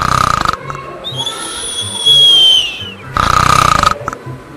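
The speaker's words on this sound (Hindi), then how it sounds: "जाकर खर्राटे लेकर सो जाता है।" Loud snoring from a man sleeping after overeating in jail in a Hindi cartoon story, two heavy rasping snore bursts with a whistling exhale between them, close and alone.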